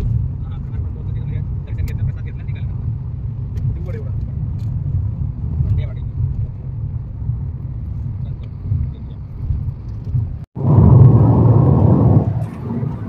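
Steady low road rumble inside a car on the Pune expressway, heading toward Wai, holds throughout, and a louder rushing surge breaks in for about two seconds near the end.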